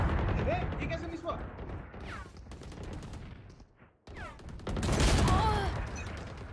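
Rapid bursts of video game gunfire crackle in a competitive shooter match, dense and loud, with a short lull before the firing resumes more heavily near the end.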